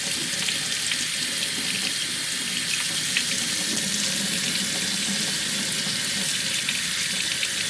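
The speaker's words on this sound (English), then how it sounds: "Now we're going to switch the cold water here." Cold water streams steadily from a sink tap over a 1994 Hasbro G.I. Joe Shadow Ninjas Bushido action figure, a continuous close hiss and splatter that never lets up, with no talking.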